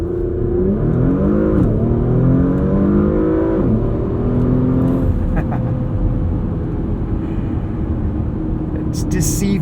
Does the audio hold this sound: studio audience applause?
no